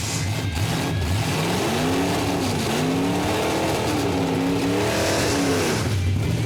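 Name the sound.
drag racing car Chevrolet Nova doing a burnout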